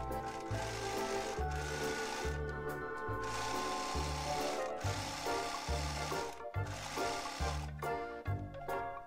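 A sewing machine stitching a salwar, quiet rhythmic bursts of motor chatter with short pauses in between, repeating steadily across several seconds.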